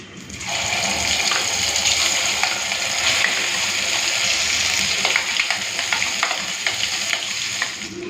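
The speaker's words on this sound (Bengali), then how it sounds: "সর্ষেটা ভাজা হয়ে গেছে এরপরে দিয়ে দিচ্ছি ডেটে রাখা কাঁকরোল আর চিংড়ি মাছ" Spiny gourd and prawns go into a pan of frying black mustard seeds, setting off a loud, continuous sizzle with scraping stirs and crackling pops close by.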